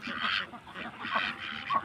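Pekin Star breeder ducks, heavy birds of three to four kilograms on a hatchery farm, give several nasal quacks and honks close by. The calls come in quick succession, overlapping one another.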